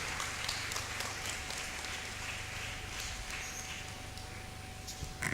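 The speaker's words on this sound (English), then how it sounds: "a round of applause for Prof." Steady applause from an audience at the launch of an education campaign in Ghana, a dense wash of clapping running evenly through the whole stretch with a brief louder burst at the end.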